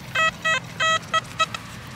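A metal detector sweeping a harvested field sounds a series of short electronic beeps, three longer tones followed by two quick blips, loud and close over a low outdoor rumble.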